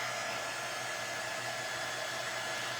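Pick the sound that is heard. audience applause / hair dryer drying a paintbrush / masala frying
hair dryer drying a paintbrush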